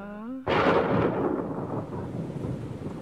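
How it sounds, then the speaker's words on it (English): A sudden loud thunder crack bursts in after a brief tone, then rolls into a long rumbling decay with a rain-like hiss, with no voices. "Just then, lightning flashed and thunder cracked outside."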